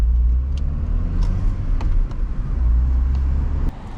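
Interior rumble of a running car with a manual transmission, a steady low engine drone under road noise with a few light clicks and knocks, loud and close.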